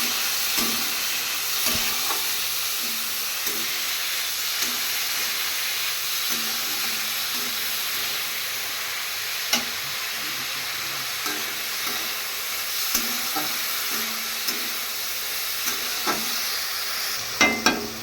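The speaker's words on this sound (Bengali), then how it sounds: "হলুদ দিয়ে দিলাম। আমি নাড়বো।" Yardlong beans frying with turmeric in a pan give a continuous hissing sizzle, with intermittent scrapes and taps as they are stirred, close and moderately loud.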